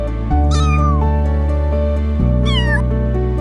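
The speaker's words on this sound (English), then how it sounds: "It was a kitten." A tiny gray kitten cries from a nearby bush, two thin rising-and-falling meows standing out loud and clear over a steady tonal background.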